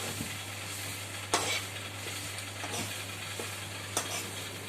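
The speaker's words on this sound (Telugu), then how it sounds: "కరివేపాకు కూడా కొంచెం లైట్గా నూనె ఆయిల్ వేయకుండా వేపాలి." Curry leaves dry-roasting in a pan without oil for curry leaf powder give a soft, steady crackling sizzle, with a few sharper scrapes of stirring at intervals over a low hum.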